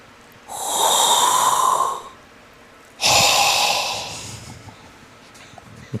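A voice imitates a strange noise from under the hood of an electric car: two long breathy, rasping hisses, close by, separated by a short pause.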